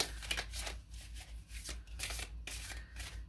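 A deck of oracle cards being shuffled up close, with a series of quick papery riffles and soft slaps in irregular bursts, quiet and alone with no talking.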